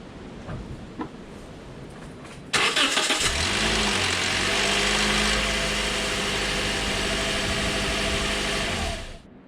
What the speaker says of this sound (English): So I'm just gonna start the engine.